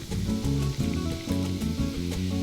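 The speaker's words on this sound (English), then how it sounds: "And then you want to top it with your favorite Mexican beer" Amber Mexican beer pours into a michelada glass, a loud, close, continuous fizzing rush that holds steady from start to finish.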